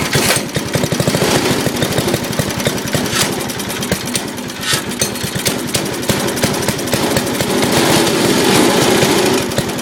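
A small engine, just cranked over with a pulley, runs loud and close with a rapid, rough putter that stays steady and uninterrupted.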